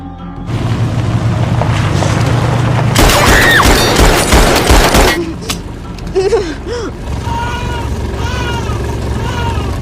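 A loud burst of rapid pistol gunfire in a film, lasting about two seconds, surrounded by rumbling background noise, music and a few voices.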